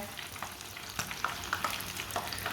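Chicken frying in oil, with oil spooned over the top: a steady close hiss of sizzling fat broken by scattered small pops and crackles, no voices.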